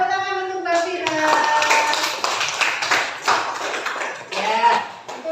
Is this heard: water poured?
no